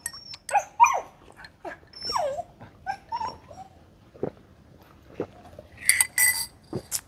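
A dog barks, yips and whimpers in short, irregular bursts at moderate distance, alone with no talk, with some faint clinking.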